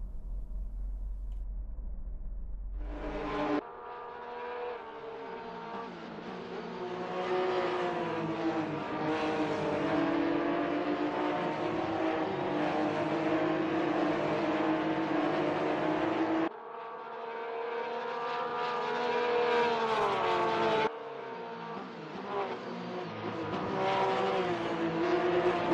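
A 2016 Porsche 911 GT3 R race car engine in Assetto Corsa, a loud, close, sustained high-revving wail that rises through the gears, with abrupt shift cuts and drops in pitch across several laps, no talking.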